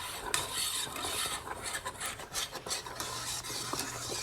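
Someone stirs a pot of thickening food on the stove, producing repeated scraping and rasping strokes with faint sizzling and utensil clinks, close and without talk.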